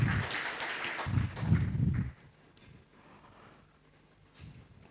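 A church congregation at an Indonesian online worship service claps for about two seconds in a loud, dense burst, then the room falls to a quiet murmur with a few faint sounds.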